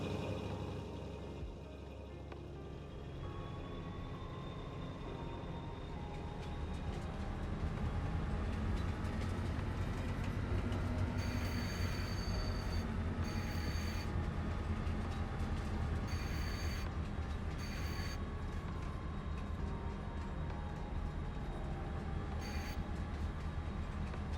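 Train rolling along the rails in Farming Simulator 22, a steady loud rumble with a rising engine drone and intermittent high wheel squeals over the second half, no talking.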